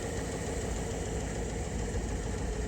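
A 1959 Edsel Ranger engine idles steadily with a constant, even drone and a faint transmission whine running throughout, with no voices.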